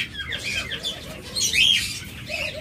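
Cage birds offered for sale, including budgerigars, lovebirds and doves, give quick high chirps and squawks close by for a few seconds, with a brief flutter of wings and no talk.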